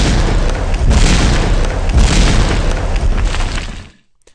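Grenade explosions in a Unity 3D game, a loud, sustained rumbling boom with several overlapping blasts rolling on for about four seconds before cutting off sharply into silence.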